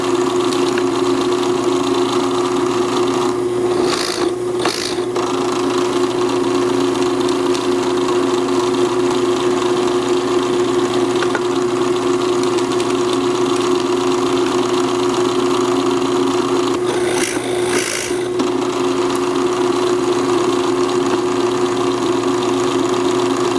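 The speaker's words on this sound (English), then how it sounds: "I'll drill one and show you how it works." A drill runs steadily with an engine-like drone throughout, boring into a wooden workpiece held in a self-centering drill jig, with a couple of brief louder bursts as the bit bites, no talking.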